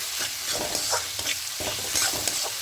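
Chicken and spices fry in a pan with a continuous loud sizzle, punctuated by repeated scraping and stirring strokes of a utensil against the pan.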